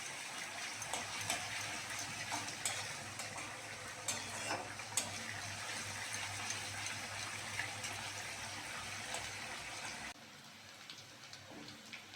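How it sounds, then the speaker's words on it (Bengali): Chopped onion, crushed garlic and slit green chillies frying in a pan for hilsa malai curry, a soft, steady sizzle close by that runs on unbroken, then drops lower near the end. "পেঁয়াজ রসুন কাঁচা লঙ্কাটা ভালো করে ভাজতে হবে।"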